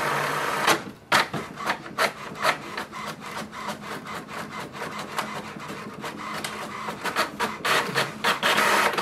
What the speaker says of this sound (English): So this will send a command for the printer to print.